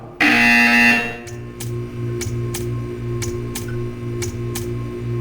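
A loud electronic buzzer sounds once in the Portal 2 video game, a harsh tone lasting under a second, followed by a quiet hum and a string of regular ticking clicks.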